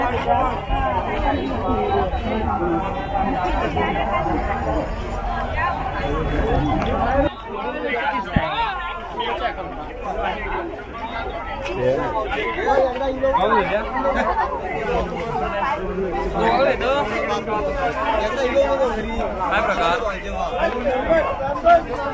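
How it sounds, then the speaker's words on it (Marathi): Dense crowd chatter fills a busy village fair, many overlapping voices murmuring steadily and continuously throughout, with a heavier low rumble in the opening seconds that then drops away. "जोरदार गर्दी आहे सध्या."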